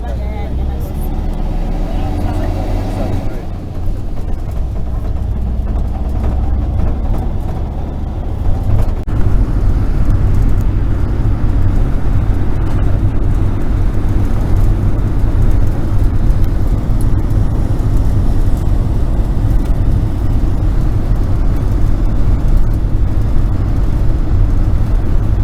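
A car drives on a South African freeway toward Bloemfontein, its steady engine and road roar filling the cabin while a person talks over it.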